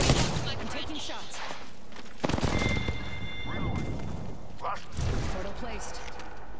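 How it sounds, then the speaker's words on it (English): Gunfire in the battle royale game Apex Legends, sharp bursts of shots and booming impacts crackling through a dense, noisy firefight, with a loud flurry at the start and more volleys around the middle and end. "They spotted me. I'm taking shots."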